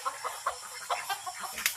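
Ducks being herded on a farm, giving a run of short, rapid quacks and clucks that come in bursts, fairly close by, with no talk over them.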